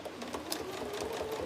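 A home sewing machine, kept in a small sewing room since 2019, runs steadily at speed with a continuous fast mechanical whir, fairly close and unbroken, with no talking.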